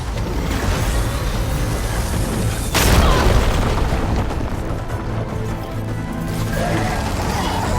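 A hovering machine enemy opens fire on the player in Horizon Forbidden West: Burning Shores, a loud booming blast rising over dense rumbling combat noise that keeps roaring afterward.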